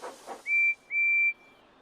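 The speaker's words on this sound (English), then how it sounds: "Thomas listens to Percy's whistle." Percy the tank engine from Thomas and Friends gives two clear, high whistle blasts, each held for about a quarter second. They sound fairly distant and stand alone after a brief soft rustle.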